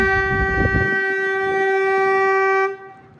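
A meter gauge train at Sasan Gir station sounds a long, loud, steady horn blast that holds for nearly three seconds, over rumbling engine noise that fades early, before the horn cuts off.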